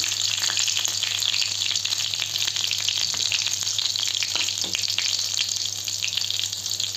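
Bay leaf and dried chili sizzle and spit in hot oil in a home kitchen, a steady loud crackle running throughout with faint stirring clicks and no talking.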